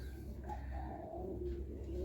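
Serbian Highflyer pigeon hens cooing softly at close range, a few low, murmuring coos over a quiet, windy background.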